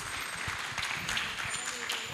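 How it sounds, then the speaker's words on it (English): A round of applause for the panel speakers at a Tanzania health summit forum in Kisimkazi Hall, a soft, diffuse patter of hands that runs steadily under a voice speaking over it. "can we give the speakers a round of applause for this?"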